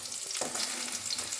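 Potatoes frying in a pan for a vegetarian dish, a steady close sizzle with a brief stir or spatter partway through, no voices.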